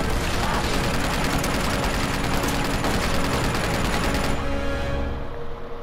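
Sustained rattling gunfire from Uncharted 2, bursts of rapid shots piling together loudly for several seconds before cutting off into quieter ambience.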